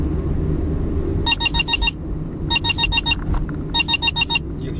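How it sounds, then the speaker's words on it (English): A GPS rear-view mirror unit gives a speed alert above 25 after driving at 16, sounding three bursts of rapid beeps over steady road rumble inside a moving vehicle. "you'll hear the alarm coming."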